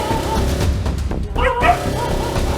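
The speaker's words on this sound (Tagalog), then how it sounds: "isang aso ang walang awang sinakmal nang nakaengkwentro nitong buwaya" Dog in Bataraza, Palawan under attack by a crocodile gives close, loud, strained yelps and whimpering cries over a rough, noisy background, with one sharper high yelp midway.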